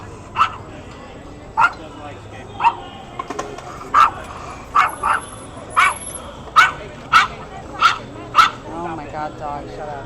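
A dog barks in about ten sharp, evenly spaced yips and woofs, fairly close and loud, while a person talks quietly in the background.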